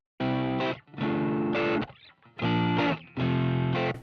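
An electric guitar through amp simulator mics into an American 2x12 cabinet plays distorted chords in short bursts, several chugging stabs separated by brief pauses, with a thick, amplified tone.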